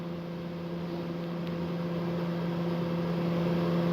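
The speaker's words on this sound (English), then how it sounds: "The microwave is running unattended." Microwave oven running with a can of paint thinner inside, a steady low hum with a constant tonal drone that grows slightly louder, alone with no talking.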